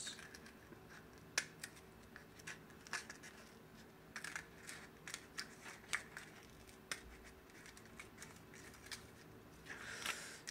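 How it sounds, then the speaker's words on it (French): A part for a model propeller is cut with small, sharp snips and clicks spaced irregularly, quiet and close, with no talking. "on va couper un tout petit peu."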